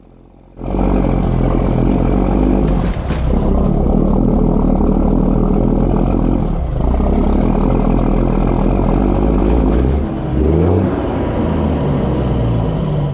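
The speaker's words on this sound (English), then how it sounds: "We hit a few big series of bumps, lost traction, spun out, not a huge deal." A Mack truck loaded with retaining wall blocks roars loudly and steadily as it bounces over a series of big bumps, with the engine note dipping and surging as the wheels lose traction and spin out near the end.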